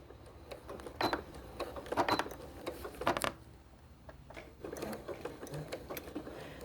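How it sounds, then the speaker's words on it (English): Sewing machine back stitching a T-shirt rag quilt, short uneven bursts of quiet mechanical chatter with pauses between, fairly close and faint. "at the very end, don't forget, you want to back stitch."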